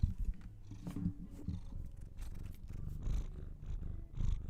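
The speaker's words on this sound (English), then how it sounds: "Bit of ASMR, cat purring." A cat purrs steadily up close, a low rumbling vibration pulsing in a slow rhythm with each breath, with no other sounds.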